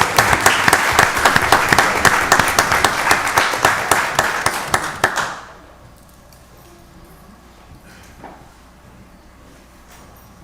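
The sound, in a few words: round of applause at a commissioners meeting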